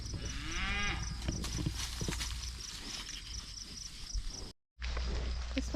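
A herd of cattle moos in a pasture, with a few low, drawn-out calls early on over steady outdoor background noise and a brief dropout near the end.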